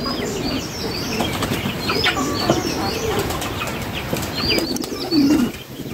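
Pigeons flapping their wings in a coop, a dense continuous flutter heard close up with soft cooing and chirps mixed in. It grows louder in a burst of movement near the end.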